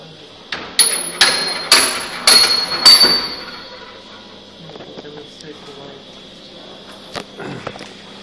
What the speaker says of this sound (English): bells ring at constant intervals.